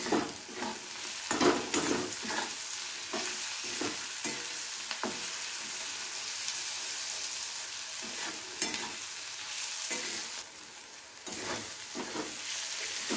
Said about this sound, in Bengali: পেঁয়াজটাকে প্রথমে হালকা একটু ভেজে নিতে হবে।